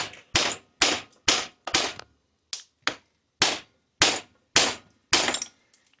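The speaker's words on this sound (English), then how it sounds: "Take your hammer and knock this thing out of here." About a dozen sharp metallic hammer blows ring out close by at an uneven pace, knocking a bearing out of a Honda Rancher 420 rear differential, each crack dying away quickly before the next strike.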